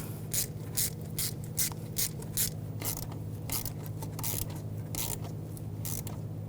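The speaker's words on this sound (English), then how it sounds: "tighten that down, and tighten down the hose clamp" A hose clamp is ratcheted tight on the EGR valve hose of a 2011-2018 Volkswagen Jetta 2.0L TDI, giving a run of quick, close clicking strokes repeated in a steady rhythm over a low hum.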